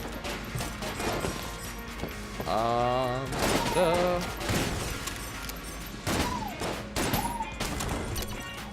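Burst gunfire in the video game Enter the Gungeon, clusters of rapid crackling shots and crashes mixed with pitched game effect tones, dense and loud throughout with short gaps.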